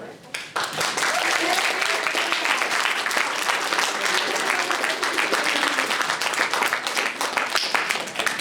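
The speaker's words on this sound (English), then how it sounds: "This is where everybody claps, please." Sustained audience applause at a RWBY fan convention panel fills the room, dense steady clapping with some voices and cheers mixed in throughout.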